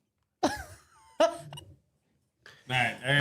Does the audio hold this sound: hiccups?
yes